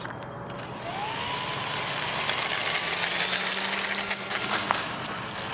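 Parkzone Spitfire MKIX electric RC model plane taking off outdoors, its motor a thin, high, steady whine that swells in as the plane speeds up and moves off, fairly faint with some wind noise.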